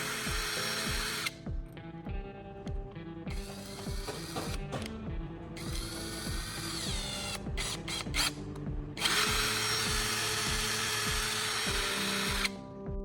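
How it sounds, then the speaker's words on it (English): A power drill spins a removed spark plug ceramic insulator mounted in its chuck, ready for knife sharpening, running steadily with a mechanical whir and ratcheting clicks, close and fairly loud, with brief pauses and no talking. "you'll need to mount the ceramic insulator piece you just removed onto the drill chuck"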